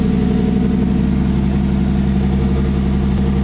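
Close and loud, a BMW E30 with a rebuilt forged turbo M50 engine idles in a smooth, even, continuous rumble, running slightly rich, with no voices over it.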